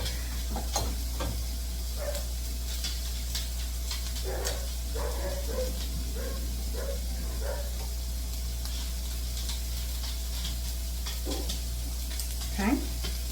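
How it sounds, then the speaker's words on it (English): Drained, rinsed canned black beans go into a frying pan, giving a soft sizzle with scattered stirring scrapes and light clinks, close and fairly quiet over a steady low hum. "I'm going to add 130 grams of black beans"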